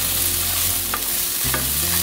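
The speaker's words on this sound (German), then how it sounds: "So, immer mal wieder umrühren." Morel mushrooms fry on a gas grill with a steady, close sizzle, while two brief scraping stirs break through; no talking.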